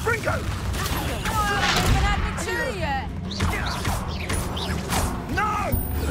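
Spell effects from a Confringo fiery blast cast in Hogwarts Legacy crackle and clatter through a busy battle soundscape, with mechanical creaks and impacts layered together and game voices chirping over the continuous din.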